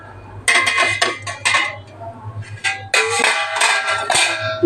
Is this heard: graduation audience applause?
no